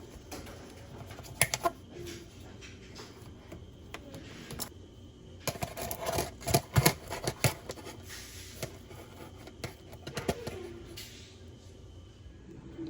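A knife cutting through a hot, fresh loaf of banana bread, irregular soft scraping and crumbly crunching strokes with a denser flurry midway, close up and fairly quiet.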